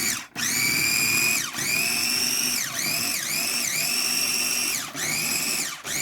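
A blender whirs loudly and steadily, chopping Jamaican patty filling into a crumbly texture, its motor pitch dipping and rising under load across several short pulses with brief pauses between.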